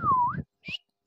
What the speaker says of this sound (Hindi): ओ देखना टूरा मन मोर बस सीटी बजावा थी